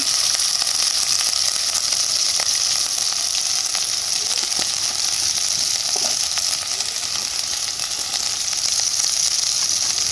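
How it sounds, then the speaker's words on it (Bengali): Beef tripe fries in hot oil with turmeric and coriander powder, giving a loud, steady, close-up sizzle that continues without pause and with no voices. "এখন এটা তেলের মধ্যে ভালোভাবে ভেজে নেব"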